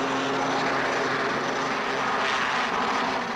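Steady, continuous engine roar of a Lynx helicopter flying overhead from a Royal Navy frigate, loud and unbroken with a droning hum throughout, no voices.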